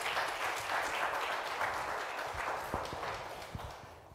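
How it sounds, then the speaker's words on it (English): Applause from an audience at a City of Cape Town climate change action plan event, a dense, steady patter of clapping that is moderately distant and fades slightly toward the end. "Another round of applause, please, for Shamila Reed."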